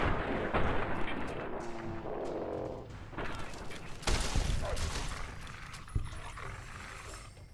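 Gunfire from the video game Fallout: New Vegas, set in the Nevada wilds: a couple of sharp, heavy shots cut through a dense, rumbling background of game noise.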